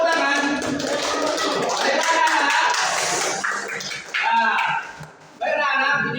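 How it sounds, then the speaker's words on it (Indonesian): Schoolchildren in a classroom clap their hands together in a loud, rhythmic burst, with young voices chanting along over the claps and brief pauses between rounds. "Tepuk tangan."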